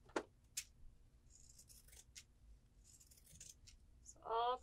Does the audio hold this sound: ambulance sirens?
no